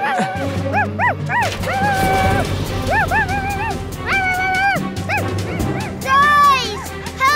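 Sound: cartoon dog barking

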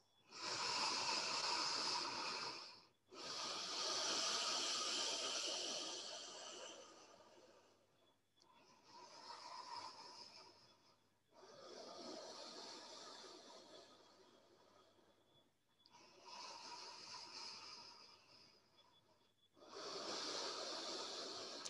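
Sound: deep breathing during yoga exercise

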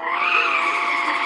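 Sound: race car skidding

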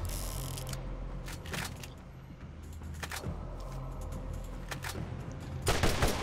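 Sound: assault gun firing in video game Borderlands

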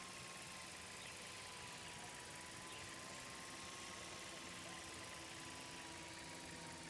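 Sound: drone flying in the video game Life is Strange 2

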